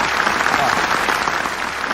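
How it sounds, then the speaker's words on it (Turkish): Steady applause from a group, dense and fairly loud, continuing throughout the short moment. "Bir alkış verelim."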